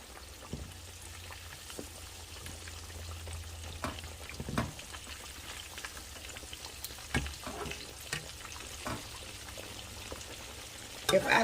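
Beef neckbones fry in a pan on a stovetop with a faint, steady sizzle, broken by occasional soft clicks and clatter from turning them.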